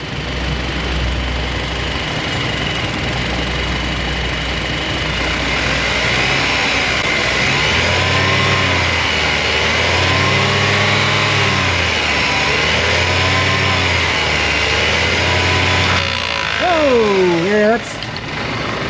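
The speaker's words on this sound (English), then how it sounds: "Yeah, that's the AC compressor." A Cadillac with 60,000 miles, its AC compressor running noisily under the hood, makes a steady loud mechanical whir with rhythmic pulsing over an idling engine, with a voice briefly near the end.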